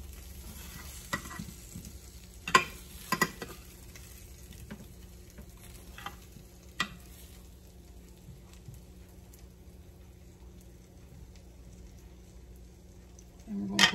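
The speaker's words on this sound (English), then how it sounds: "We're going to flip it, stir it up some." Roasted sweet Italian sausage and potatoes are flipped and stirred in a hot pan fresh from the oven, giving a faint steady sizzle with a few scattered scrapes and clinks early on and a louder clatter at the very end.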